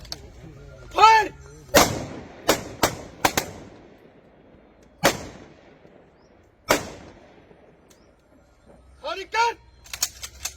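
Loud gunshots ring out singly and in quick pairs, spaced irregularly across a gunfire salute honoring a fallen martyr, with people talking between the volleys.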